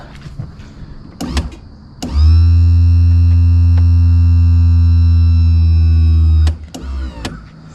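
A Mercury 1150 outboard's hydraulic trim pump whines steadily for about four seconds as it raises the motor, loud and close, with clicks and small knocks before and after.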